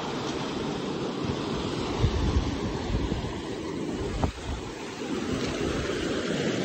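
A large expanse of water rushes and washes steadily, a broad, continuous roar that sounds like surf, with wind buffeting the microphone throughout, and no one speaking.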